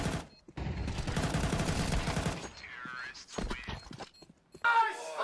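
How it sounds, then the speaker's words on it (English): Counter-Strike gunfire during a PGL Bucharest 2025 esports match, a loud burst of shots under excited commentary, then quieter scattered sounds. "Crazy shooting."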